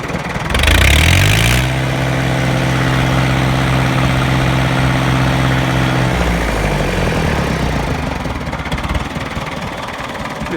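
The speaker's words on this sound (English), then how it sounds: "The engine sounds great." A 1967 International Harvester B275 vintage tractor engine, around fifty years old, idles close by with a smooth, steady, throbbing rhythm after a brief louder start, then settles a little lower near the end.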